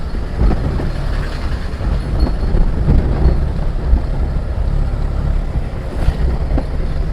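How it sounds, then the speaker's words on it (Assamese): The Dihing river at Margherita, swollen by rain, flows with a dense, steady broadband roar that holds constant throughout, with no voices. "দিহিং নদী এইখন। বৰষুণ দিলে যে পানী বাঢ়িছে"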